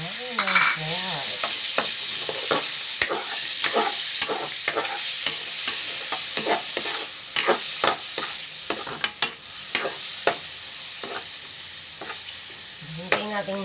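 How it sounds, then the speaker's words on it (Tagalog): Pork frying in hot oil in a wok, a loud, steady sizzle with frequent scraping stirs and clinks of a spatula against the metal, continuous and close throughout. "Nilagay na natin ang pork."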